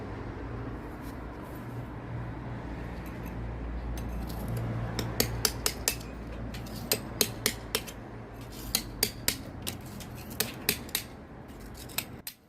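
A beaver tail trowel rakes old lime mortar from stonework, starting as a rough continuous scrape and shifting into a run of sharp, irregular scratchy clicks up close, with no talking.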